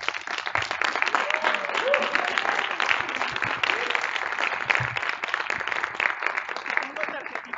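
Audience applause after a talk at a women-in-data professions event, a steady dense wash of many hands clapping for several seconds, with faint voices mixed in.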